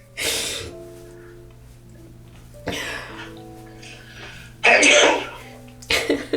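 Several short, sharp bursts of breath noise at intervals, like sneezes or throat-clearing, over a low steady hum with no talking.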